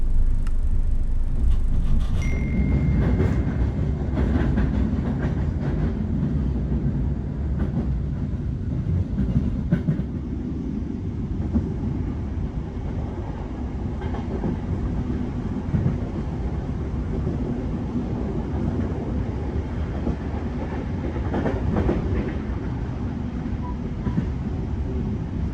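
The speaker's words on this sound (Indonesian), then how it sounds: "Perjalanan kereta api Gajayana tambahan diberangkatkan kembali dari stasiun Tugu Yogyakarta." A Gajayana passenger train runs on the rails in Indonesia. A steady, close rumble of wheels and carriage goes on throughout, with faint rhythmic clatter and no talk.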